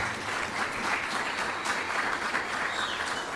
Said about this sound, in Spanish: Un aplauso para la magíster Daisy Bean, por favor